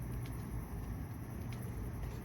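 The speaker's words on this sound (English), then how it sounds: "I hear engine sounds right here" A car engine rumbles low and steady on a street at night, constant and fairly faint, with no one speaking.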